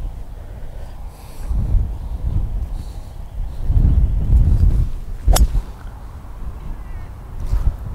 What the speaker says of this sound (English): The wind is like 40 k's.